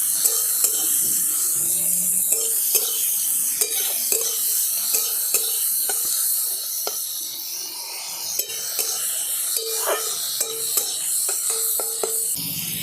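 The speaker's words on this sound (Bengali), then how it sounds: "ভালো করে সমস্ত কিছু আমি একসাথে ভাজা ভাজা করে নিচ্ছি" Ginger, garlic, and dried and green chillies frying in a pan, a steady loud sizzle broken by scraping and stirring clicks from a spoon throughout.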